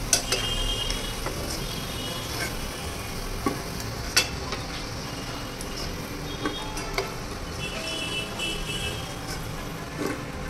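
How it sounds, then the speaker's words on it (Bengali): Gulab jamun frying in hot oil, a constant close bubbling sizzle broken by scattered sharp ticks and clinks of a utensil against the pan, no one speaking. "তেল আমার গরম হয়ে গেছে, এবার আমি এগুলোকে লাল করে ভেজে নেবো"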